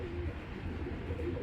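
Giribaz pigeons coo softly in low, throaty murmurs, faint and continuous for a brief moment with no voices over them.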